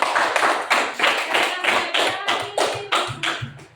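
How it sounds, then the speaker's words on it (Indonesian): A classroom of students applauds a classmate, a brisk run of close, bright hand claps with steady rhythmic pulses and no talking over it. "berikan aplaus sama teman kita yuk"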